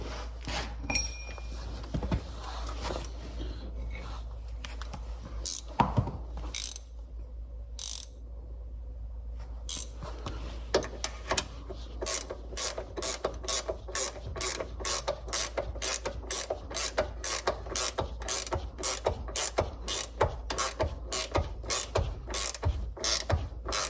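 Ratchet tightening the nut underneath a Volvo front ball joint during a DIY replacement, giving a long run of rapid, evenly spaced close clicks that grow steady and rhythmic in the second half, with no talk.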